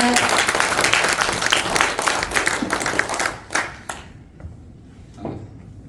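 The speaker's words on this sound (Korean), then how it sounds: "박수 부탁드립니다" A burst of applause from a crowd at a Korean education association workshop, clapping loudly for a few seconds for a speaker's introduction and then tapering off into a few scattered claps.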